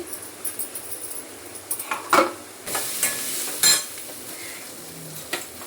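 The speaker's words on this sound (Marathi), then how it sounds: "टमाटा जरासं थोडासा नरम करून घेते" Tomato softening in a pan with finely chopped garlic, cumin and chili, giving a faint sizzle beneath intermittent scrapes and clinks of a spoon stirring against the pan.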